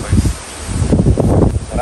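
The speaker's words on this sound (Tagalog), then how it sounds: "Ayun ang lakas ng hangin mga troopers." Strong wind gusts across an open campsite in Tanay, Rizal, overlooking Laguna Bay, roaring and buffeting the microphone in uneven surges. Loud and close, with a voice talking underneath.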